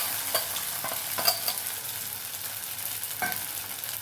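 Soaked whole rice is stirred and fried in a pan for a fasting khichdi, giving a soft sizzle broken by a few scraping stirs of the spoon, with no voices.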